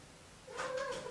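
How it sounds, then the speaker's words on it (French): A cat gives a single short meow, close and fairly clear, rising out of a quiet room. "Ça, c'était le chat."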